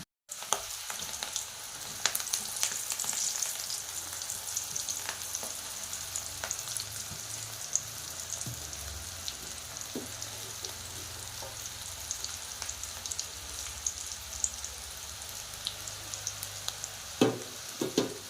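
Onion pakoda fritters deep-frying in hot oil make a soft, steady crackling sizzle with scattered sharp pops, continuing evenly throughout at a moderate distance, with no speech.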